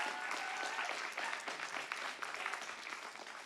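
A crowd claps warmly for two performers at a live show, a busy, even patter of many hands at moderate distance that stays level and slowly thins toward the end.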